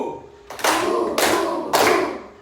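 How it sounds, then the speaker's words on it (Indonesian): A group claps in unison during an ice-breaking clap game, three sharp, loud bursts of hand clapping evenly spaced about half a second apart, each one ringing out briefly before the next. "kita lakukan ice breaking tepuk ha hi hu"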